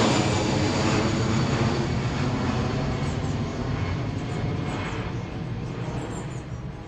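An airplane in flight, with a loud, steady, broadband engine and wind roar that fades slightly toward the end, and no voices.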